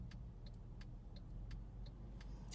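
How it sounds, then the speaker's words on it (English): Cars drive past on a road, a faint steady rumble heard from a parked car with small intermittent clicks over the top. "Gotta wait for the cars to go by."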